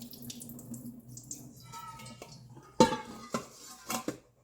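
Raw chicken pieces washed with turmeric and salt in water in a kitchen: running tap water and sloshing give way to sharp clanks of a metal vessel and splashes, fairly close.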